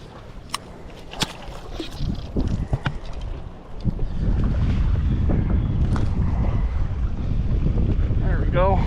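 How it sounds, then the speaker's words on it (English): Wind buffets the microphone while fishing from a boat on one of the Finger Lakes, a loud rushing roar that swells and stays constant in the second half, with a few sharp clicks and knocks early on. "Wind's gonna push me right into shore here."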